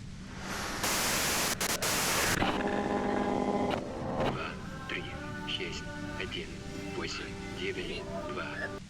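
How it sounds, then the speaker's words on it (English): Harsh burst of loud white-noise static in the video game Disco Elysium, cutting in sharply then dropping away to quieter tonal ambience and sparse voice-like sounds. "If you've got something really important to say, you can do it through the white noise."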